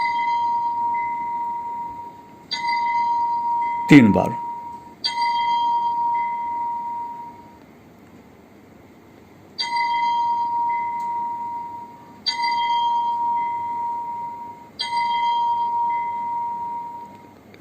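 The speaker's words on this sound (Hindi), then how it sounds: "घंटी की आवाज़ जो बजते हैं मंदिर के अंदर, वही यहाँ आप सुन सकते हैं" A clear temple bell rings out several times at spaced intervals, each strike ringing and fading slowly, with one sharp knock partway through.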